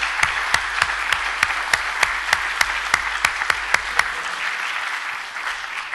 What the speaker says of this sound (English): Can I have a round of applause for the role players?